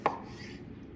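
A single sharp knife chop through vegetables on a cutting board while preparing fresh salsa, one crisp close thud followed by quiet.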